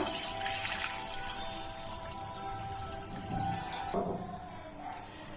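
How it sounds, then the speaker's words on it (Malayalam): Water runs and pours steadily into a pan, a continuous splashing flow that eases off near the end. "ആവശ്യത്തിന് വെള്ളം ഒഴിക്കുക."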